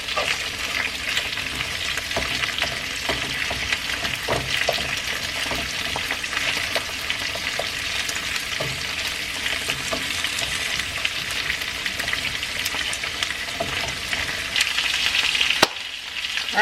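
Whole head-on shrimp deep fry Mexican style in oil with a dense, steady bubbling sizzle and faint crackles that run close and unbroken throughout.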